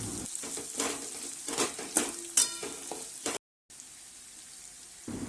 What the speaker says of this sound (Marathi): चवीला थोडं काळं तिखट टाकलं आणि घेतलं एकदाच सगळं फ्राय करून